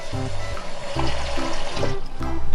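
Limewater is poured off soaked pumpkin pieces and plain water is added to rinse them, a steady splashing pour with trickling water, close and moderately loud.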